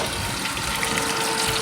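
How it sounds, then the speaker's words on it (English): Blueberry cobbler bubbling hard in a pan, a dense, steady fizzing and gurgling wash that stays loud and close throughout with no pauses. "can you hear them bubbling?"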